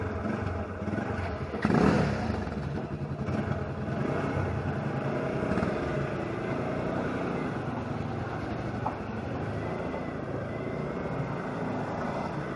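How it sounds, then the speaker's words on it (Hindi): TVS Apache RTR 160 ABS motorcycle engine starts and settles into a steady, loud, close idle with a continuous low rumble and brief louder burst at the start. "तो चलिए दोस्तों अब बाइक को कर लेते हैं स्टार्ट।"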